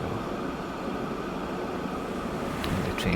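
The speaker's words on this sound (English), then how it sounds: "the train's able to come all the way in" Train arriving in the Transport Fever 2 video game, a steady, moderately loud rumble of rolling rail cars with a brief brighter squeal near the end, no voices.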